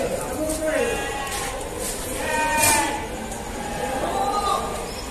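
Goats bleating at a busy night livestock market in Deonar, repeated wavering calls rising over constant crowd chatter and people talking nearby.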